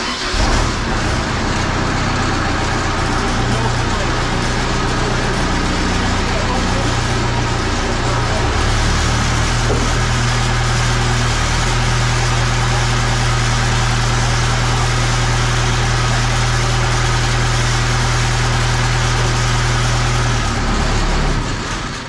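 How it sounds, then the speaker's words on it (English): A TK40 3320 heavy machine's engine runs steadily for the whole stretch, a loud, continuous low mechanical drone with a constant hum, while people talk nearby over it. "Now, when you see the machine running"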